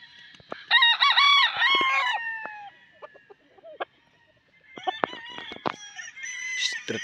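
A GRS Thompson White gamefowl broodcock crows loudly and close, with clucks and other fowl calls scattered around it, and a second crowing bout follows after a short lull.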